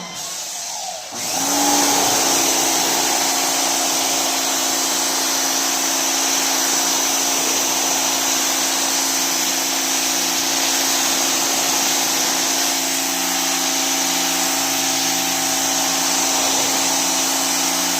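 A power washer cleaning a wall starts up after a brief pause, then gives a loud, continuous high-pitched whine and hiss that holds steady throughout.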